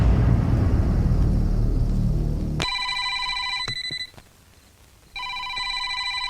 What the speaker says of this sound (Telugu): ఆ ఫోన్ చూడు నాన్న.